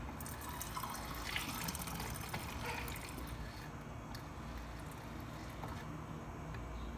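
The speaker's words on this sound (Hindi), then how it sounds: "हम इसको ट्रांसफ़र कर लेते हैं बॉटल में। हम दूसरी में डाल लेते हैं।" Almond sharbat, a sweet almond drink, poured steadily from one vessel into a bottle, a continuous close liquid pour with gurgling and splashing, no talk over it.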